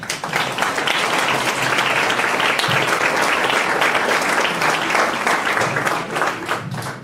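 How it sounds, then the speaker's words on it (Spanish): Audience at a university forum in Jalapa applauds a speaker, sustained dense clapping from many hands at steady loudness filling the room throughout. "para quien pido un fuerte aplauso"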